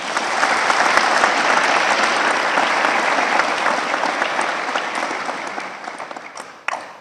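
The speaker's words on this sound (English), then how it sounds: "I think they deserve a round of applause as well." A crowd at a cardiac arrest survivors' reunion applauds the event hosts, a loud, sustained round of clapping that fades gradually toward the end.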